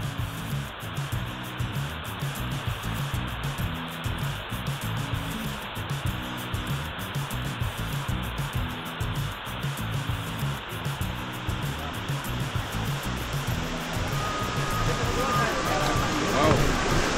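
River rapids rushing below a camping ground at Datar Pinus in Pengalengan, a broad continuous roar of churning water that grows slightly louder toward the end, with a rhythmic low thumping underneath.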